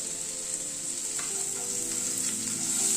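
Boiled chickpeas and a slit green chilli frying in a pan, a faint, even sizzle with a couple of soft stirring scrapes, close but quiet, no one speaking.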